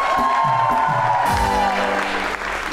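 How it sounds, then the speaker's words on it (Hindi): A talk show studio audience applauds the arriving guest, a dense sustained clapping with scattered cheers and whoops, loud and continuous under a musical sting for the full stretch. "फिर आज आप हमारे आए हुए मेहमान के लिए तालियां बजाएं"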